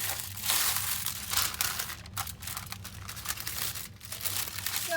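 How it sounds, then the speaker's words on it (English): Aluminium foil crinkling and crushing as it is pressed over a red hamour fish on baking paper, a steady close rustle with bursts of sharper crackle throughout. "And we'll try to cover it with the aluminium paper."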